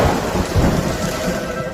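Heavy rain pours steadily with deep rolling thunder rumbling underneath, a dense, loud, continuous storm wash with no voices.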